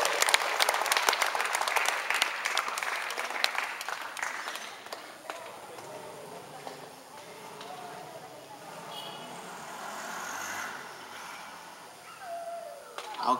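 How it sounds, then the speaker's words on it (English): Wedding guests clap warmly for the newlywed couple in a steady round of applause that fades gradually, with some voices mixed in. "A round of applause."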